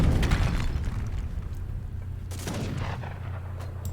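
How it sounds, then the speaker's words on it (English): Cannon volley in a real-time strategy game match: a cluster of heavy booming blasts at the start, then a rumbling low tail with scattered distant impacts and battle clatter, no talk. "Took 1 volley from the cannons."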